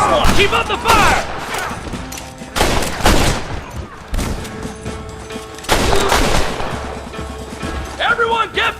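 Gunfire in a Red Dead Redemption shootout: repeated loud bursts of rifle and pistol shots in irregular clusters, close and sharp, with crashes and reverberant echoes between volleys.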